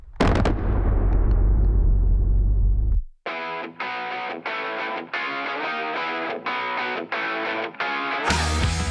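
Pistol shots with jacketed hollow point ammunition in a 45 ACP versus 10mm Auto comparison, a loud sustained blast that cuts off, then a run of processed, music-like pulses and a final burst, all without speech.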